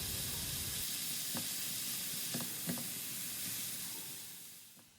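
Beetroot braising in a pan for borscht, a steady broadband sizzle and hiss with a few soft stirring taps, fading slightly toward the end.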